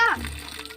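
Water pours briefly with a soft, steady rush, opening with a short voice that fades under it, while making street-cart pattani sundal.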